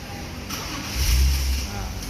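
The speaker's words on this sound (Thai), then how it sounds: "อันนี้รถสตาร์ทแล้วนะครับผม" A BMW E46 is started by remote, its engine catching midway with a brief low rumble before settling, while a person talks over it.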